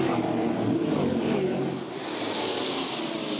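Touring Car Masters racers from 2011 sweep through a chicane at a Sydney street circuit, engines roaring loudly and shifting in pitch as they pass, a dense blend of revving and tire noise.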